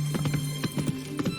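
Roach, Geralt's horse in The Witcher 3, trotting through the city streets of Oxenfurt, hooves clip-clopping in a quick steady rhythm over a low hum, close and moderately loud with no talk.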